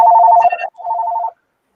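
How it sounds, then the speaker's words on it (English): A landline telephone rings close by in two electronic bursts, the second shorter after a brief gap, with no voices over it. "Sorry, my phone's ringing."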